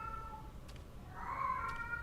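Cat meowing in the Tsugunohi video game, two drawn-out meows, the second longer and rising, faint over a low background hum and heard alone without speech.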